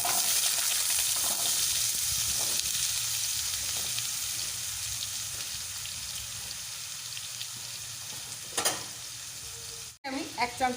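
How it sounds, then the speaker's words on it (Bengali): Finely chopped eggplant and potato fry in hot oil in a wok, a loud steady sizzle that slowly softens, with stirring scrapes and a brief clatter and cutoff near the end. "আমি এখানে বেগুন আর আলু কেটে রেখেছি একদম ছোট ছোট কুচি করে, সেগুলো এবার আমি কড়াইতে দিয়ে দেবো।"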